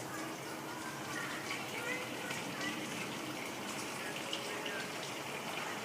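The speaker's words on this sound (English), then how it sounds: "now we pour it back in the top through the strainer." Homebrewed chocolate stout wort pouring steadily from a container back through a strainer into the mash tun during vorlauf, a continuous close splashing gush lasting throughout, with someone talking over it.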